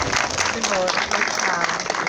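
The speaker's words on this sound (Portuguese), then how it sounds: "Pra uma salva de palmas para essa garotinha." Audience applause in a Brazilian talk or lecture setting, a short burst of crowd clapping mixed with voices and cheering, fairly loud and continuous.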